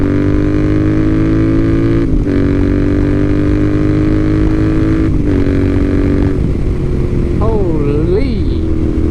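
Royal Enfield Interceptor 650 with a DNA air filter, its engine droning steadily loud near 5,000 RPM while riding, with brief dips as the throttle eases, then a shifting whine; a voice speaks briefly under the engine.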